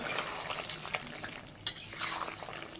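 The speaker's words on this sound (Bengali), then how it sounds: "এবার এটাকে ভালো করে নেড়ে দেবো।" A spatula stirs potato and pumpkin curry in a pan, giving soft scrapes and a few clinks over a faint simmering sizzle, with one sharp knock midway.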